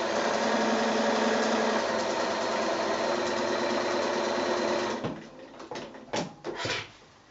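A sewing machine runs steadily and close, straight stitching and back stitching a side seam on a quilted snap bag, a continuous motor whir that stops after about five seconds, followed by a few brief knocks and handling sounds.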